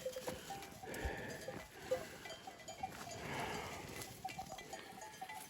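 Several sheep bleat repeatedly outdoors, some calls close and others farther off, over a steady background of outdoor noise.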